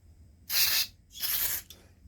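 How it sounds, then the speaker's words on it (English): Two short, close hissing bursts of carb cleaner spray into the air bleed of a generator carburetor, the second slightly longer, followed by a faint brief puff, in a quiet setting. "I might as well spray in this air bleed here,"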